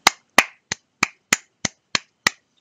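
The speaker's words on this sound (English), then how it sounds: "Bravo. Round of applause." Eight sharp, isolated hand claps in a slow, even rhythm, close and dry against silence, like one person's sarcastic round of applause.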